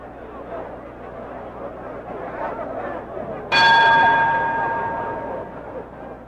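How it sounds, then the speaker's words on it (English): A boxing ring bell ends the third round of a 1964 bout, Sugar Ramos vs. Floyd Robertson. One loud metallic clang rings out midway and decays slowly over a low murmur of crowd noise. "at the bell announcing the end of the third round"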